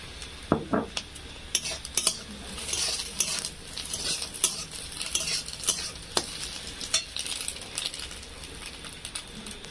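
A spoon stirs already-fried egg through a sizzling frying pan of masala, with clinks of utensil on metal and repeated scraping strokes over a steady sizzle, close and fairly quiet, no talk.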